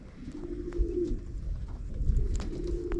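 A racing pigeon, a hen, coos in a loft in low, throaty rolling phrases, two swelling bursts close by, with faint rustling and no talk.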